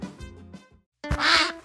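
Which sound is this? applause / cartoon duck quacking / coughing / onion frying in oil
cartoon duck quacking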